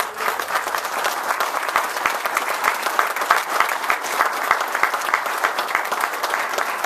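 Audience at a weatherization project wrap-up event gives a round of applause, many hands clapping in a close, crisp, sustained burst with steady intensity.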